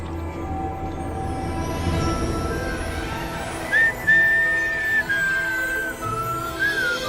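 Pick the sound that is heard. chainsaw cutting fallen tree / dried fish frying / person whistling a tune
person whistling a tune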